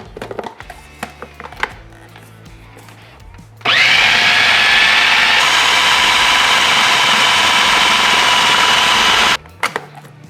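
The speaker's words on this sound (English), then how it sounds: "we're going to place the lid on and then process on high speed for about 1 minute" A food processor purees sweet potatoes on high speed, a loud steady motor whir that starts abruptly after some handling noises and runs for about six seconds before stopping.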